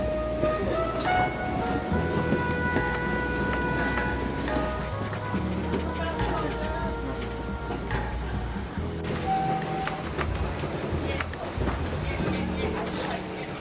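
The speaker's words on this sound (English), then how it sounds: "the train slows for a hook turn" A train rumbles steadily along the rails descending through a gorge in tropical north Queensland, slowing for a hook turn, with continuous low mechanical noise and clattering, a few tonal squeals on top, and voices faintly beneath.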